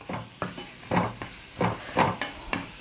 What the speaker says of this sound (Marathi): आपल्याला थोडंसंच परतायचं आहे